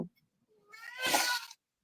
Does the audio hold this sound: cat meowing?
yes